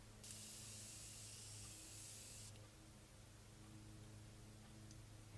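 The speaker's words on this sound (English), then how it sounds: "Ooh, it's a very fine mist." A fine-mist facial spray bottle gives one soft, close hiss of about two seconds, then quiet room tone continues with no talking.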